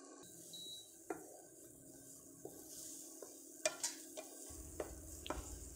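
Egg bhurji mixed with masala in a hot pan, a soft continuous sizzle broken by scattered sharp scrapes and taps of a spatula against the metal, close and alone.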